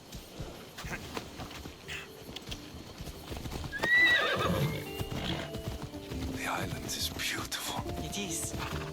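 Horse hooves clip-clop steadily while riding in Assassin's Creed Odyssey, with a neigh partway through and voices talking over the rhythmic clopping.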